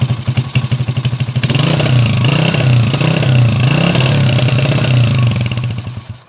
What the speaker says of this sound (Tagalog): may lumalabas na usok tapos parang palyado yung andar niya ngayon